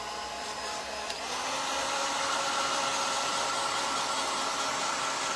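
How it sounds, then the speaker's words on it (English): A hair dryer blows with a steady, close whooshing roar that rises slightly after the first second and holds evenly, with no talking. "I'm going to have to hit it with my hairdryer"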